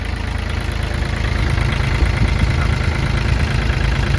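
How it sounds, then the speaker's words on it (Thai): A 2020 Kubota L3218 tractor's three-cylinder diesel idles close up, a steady, loud, low rumble with an even knocking pulse and no voices. "ตัวนี้เครื่องสามสูบ"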